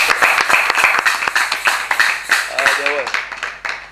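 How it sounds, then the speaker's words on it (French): An audience at a Saturday cabaret show claps steadily and densely throughout, loud and close, with voices and some cheering mixed in. "On applaudit quand même"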